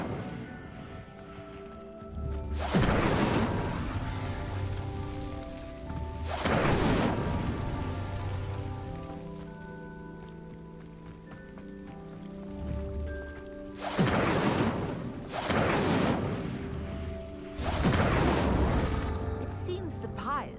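Incendio fire spell in Hogwarts Legacy lighting a set of pyres, several whooshing fiery bursts spaced a few seconds apart, each swelling loud over a steady low game ambience.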